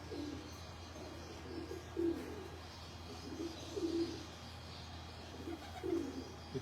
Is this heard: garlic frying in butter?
no